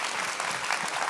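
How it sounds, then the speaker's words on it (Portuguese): Brief burst of steady audience applause at a church workshop congress, many hands clapping together in a dense, continuous wash without any talking. "Vamos dar uma salva de palmas"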